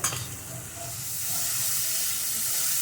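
Turmeric and chilli spice paste thinned with water hits a hot pan with a loud initial burst, then settles into a steady, continuous sizzling hiss that swells slightly and holds close up.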